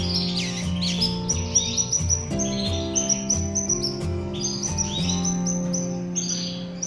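Caged canaries squabbling in a breeding setup, with dense, rapid chirps and trilling song overlapping continuously, loud and close, alongside sharp scuffling accents throughout.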